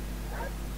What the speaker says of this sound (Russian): И собакена откуда-то.